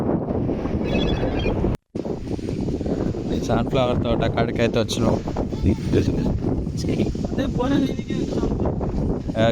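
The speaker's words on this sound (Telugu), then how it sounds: "గాలి అయితే ఎక్కువ ఉంది ఈరోజు, ఎందుకో గాలి సౌండ్ ఎక్కువ వినిపిస్తుందేమో" Strong wind buffets the microphone with a constant low rumble and roar while a person talks close by.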